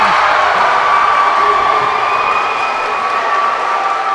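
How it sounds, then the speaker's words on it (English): A high school boys basketball crowd cheers and shouts in a gym, a loud sustained roar with whoops and shrill voices and little let-up. "Listen to this crowd."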